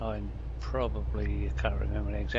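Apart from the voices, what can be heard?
None of the usual background noises is heard.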